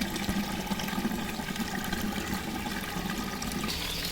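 Water from a koi carp pond fountain pours steadily into the pond, a continuous loud splashing rush with no speech.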